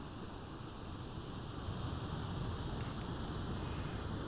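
Steady jet roar from an F-86F Sabre jet engine throttling up in a flight simulator, a continuous dense rumble with a high whine that swells slightly louder partway through.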